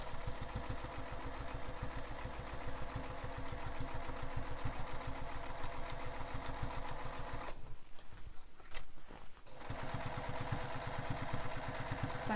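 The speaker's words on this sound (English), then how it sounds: "So I'm just top stitching all the way up that edge that we just pressed." Domestic sewing machine top stitching along a pressed edge of a fabric beach bag, a fast steady whir up close that stops briefly for about two seconds before resuming.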